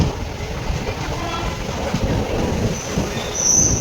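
A train rumbles at platform two of Guntakal Junction railway station with low rolling noise and a faint high squeal near the end.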